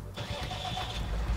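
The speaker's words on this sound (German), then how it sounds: "Oder wir fahren diesen Traktor mal sehen." A tractor engine cranks and catches in a farming video game, then settles into a steady mid-pitched run, fairly close and loud.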